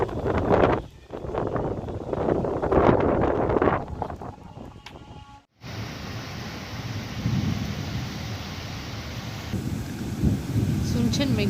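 Storm wind blows outside in a continuous rushing roar that swells and dips, with someone talking over it at times.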